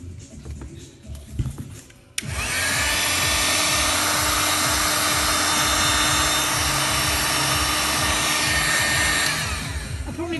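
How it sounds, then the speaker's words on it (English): A heat gun blows hot air onto 10mm CF100 foam painted with Flexipaint. Quiet handling sounds come first, then a loud, steady whooshing roar starts suddenly and holds for about eight seconds before easing slightly at the end. "let's see how the heat gun works out"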